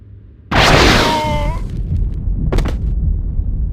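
Soldiers fire a blaster volley in the Star Wars KOTOR II video game: a sudden loud burst of shots, then a lingering rumbling wash and a second sharp crack near the end, with no talking.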